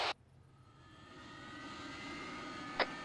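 A military aircraft engine in the Arma 3 game spools up, a low whine and rumble rising gradually over a few seconds, with a short radio click near the start and another near the end.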